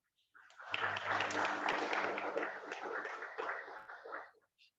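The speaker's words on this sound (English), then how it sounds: "Let's have the applause again." An audience at an academic event claps in a short burst of applause lasting about four seconds, rising quickly and fading out at a moderate level.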